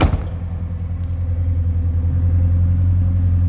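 A 1988 Ford Thunderbird Turbo Coupe's 2.3-liter turbo engine idles smoothly nearby, a steady low rumble with a faint rhythmic pulse throughout.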